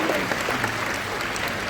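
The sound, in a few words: applause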